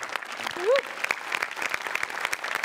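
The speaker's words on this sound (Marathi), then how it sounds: "बाबाजींसाठी एकदा जोरात टाळ्या" A studio audience at a Marathi comedy show claps hard and steadily for a performer, with a brief whoop of cheering rising above the dense patter of hands.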